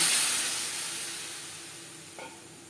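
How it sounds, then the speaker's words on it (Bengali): Water poured into a hot pan of lightly fried mango pieces while making mango chutney, setting off a loud hissing sizzle that slowly fades, with a faint clink near the end. "আম হালকা করে ভেজে নেওয়া হয়ে গেছে দিয়ে দেবো জল"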